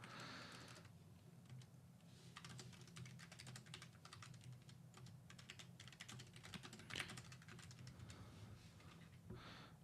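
Someone types on a computer keyboard, a quiet run of clustered key clicks in uneven bursts with short pauses, close but faint.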